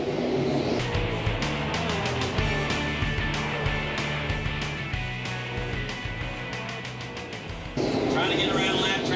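Late model race cars roaring around the Eastbay Raceway oval, engines droning and revving as they pass, with a commentator talking loudly over the engine noise throughout.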